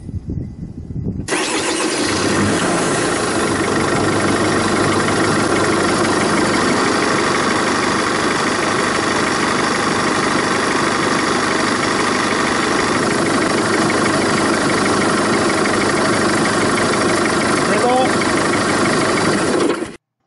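A car engine with a glow-plug preheating circuit cranks and starts, then settles into a steady, loud idle that runs without a break. Faint background voices are heard under the engine noise.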